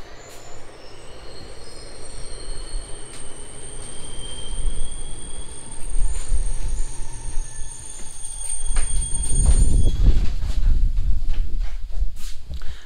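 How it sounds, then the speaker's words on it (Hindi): Inside an empty moving passenger train in Karnataka, wheels rumble on the rails beneath sustained high metallic squeals, and the rumble builds louder near the end with no voices. "तब तक मैं दिखाता हूँ ट्रेन का हाल चाल।"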